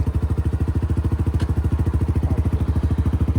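Motorcycle engine idling close up with a steady, rapid thumping rhythm of even pulses, running throughout while the rider is learning to shift into first gear.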